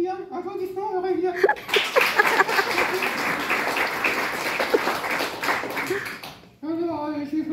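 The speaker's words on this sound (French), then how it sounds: "Eliane, applaudissements, Aurélien." Audience applause and clapping at a comedy club ventriloquist show fill the room loudly for about five seconds between stretches of talk, dense and steady before cutting off as speech resumes.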